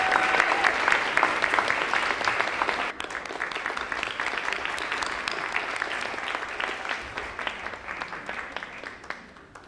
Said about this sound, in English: So let's give our instructional staff members a round of applause.